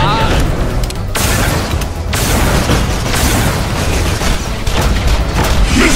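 Grenade explosions and gunfire in the video game Borderlands: The Pre-Sequel, a dense, loud stream of booms and bursts with game voices talking over the continuous combat noise.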